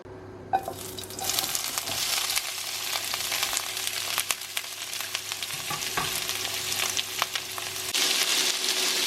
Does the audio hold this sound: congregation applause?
no